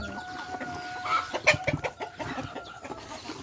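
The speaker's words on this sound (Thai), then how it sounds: "ทุกคนไก่เป็ดหลายมากเลยแม่" Chickens and ducks in a yard making scattered clucks and squawks, with a few sharp calls clustered near the middle amid a busy background.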